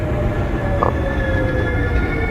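A New York subway 2 train rumbles into Franklin Street station, with a steady low roar of wheels on rail and a faint high squeal from the wheels.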